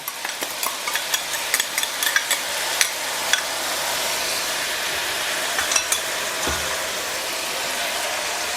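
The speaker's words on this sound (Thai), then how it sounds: "ใส่ซอสน้ำปลาที่เราทำไว้ลงไปครับ ราดลงไปแบบนี้เลยนะ" Homemade fish sauce poured over fried pork belly in a hot pan, a loud steady sizzle with clinks and scrapes of stirring early on, close up and no talking.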